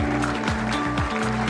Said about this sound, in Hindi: इसे जोरदार तालियां